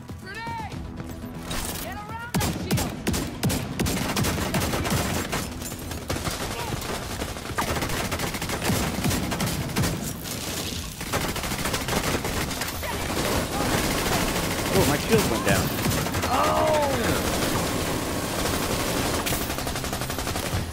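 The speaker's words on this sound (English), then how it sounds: "I was getting shot in the back." Dense video-game gunfire crackles nonstop, with rapid automatic bursts and scattered impacts layered into a loud, busy battle din, some voices mixed in.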